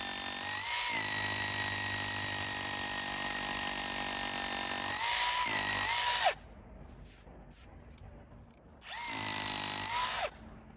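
A power drill whines steadily at high speed, dipping in pitch as it bites, stops, then runs again briefly; close and loud, no talking.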